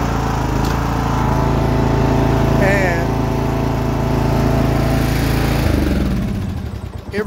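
Zero-turn lawn mower engine running steadily at close range, a loud even drone that cuts out and sputters to a stop near the end.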